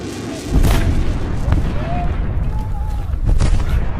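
Gunfire and explosions in a war film attack scene on the border, heavy booming blasts and rapid shots layered thickly and loudly with shouting voices mixed in throughout.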